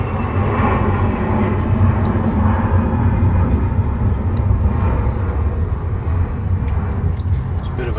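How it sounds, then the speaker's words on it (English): On a cloudy day, airplanes passing overhead produce a loud, steady low rumble that fills the whole stretch, with faint sharp clicks nearby. "the airplanes are a little bit louder than normal"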